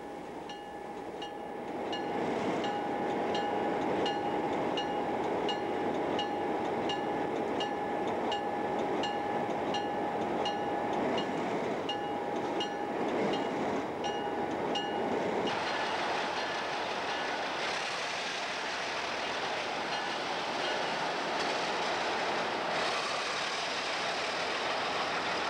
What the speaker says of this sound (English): This is a severe uphill grade with two sharp curves. These locomotives have all they can handle.